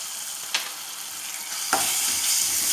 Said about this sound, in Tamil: இந்த பச்சை வாசனை போகிற வரைக்கும் இதை கொஞ்சம் வதக்கி